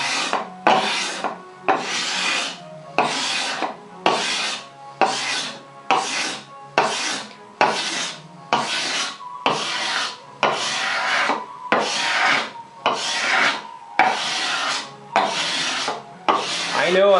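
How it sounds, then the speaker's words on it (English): Hand scraping of difficult wood with a steel scraper, a steady series of about sixteen rhythmic rasping strokes, close and fairly loud, with no voice. "And I'll do some scraping from this side."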